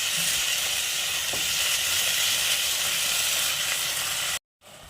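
Egg roast gravy with hot water just added bubbles and hisses in the pan as it is stirred, a continuous close sizzle with no talk, cutting out briefly near the end.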